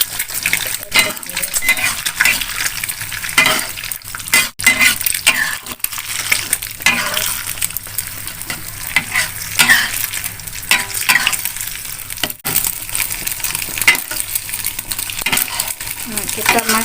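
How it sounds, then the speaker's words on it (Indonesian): Beaten eggs poured into hot oil in a pan for Indomie ayam bawang with vegetables, a loud, steady sizzle and crackle throughout, with occasional utensil knocks. "Minyaknya udah panas ya guys. Ini sudah kita kocok, kita masukin ya guys."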